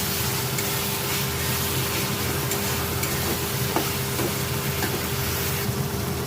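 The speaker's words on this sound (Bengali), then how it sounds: "এবার একটু লঙ্কার গুঁড়ো দেবো, তাতে ভালো করে নাড়ব।" Chili powder being stirred into a sizzling mixture in a pan, a steady loud fry with soft scraping strokes of the spoon and faint crackles, no talking.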